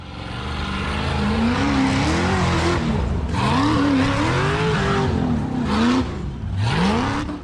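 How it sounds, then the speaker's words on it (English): An off-road buggy charges up a steep dirt slope strewn with large rocks, its engine loud and close, revving hard in rising and falling surges with brief dips between bursts of throttle. "The buggy charged up the dirt slope covered with large rocks."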